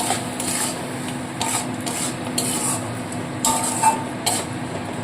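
Masala stirred in a pan after a small splash of water, with rhythmic scraping and rubbing strokes of a spatula over a low, constant sizzle.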